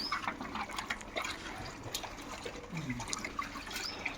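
Faint water trickles and drips off freshly washed coconuts, soft irregular dribbling sounds close by in a quiet setting.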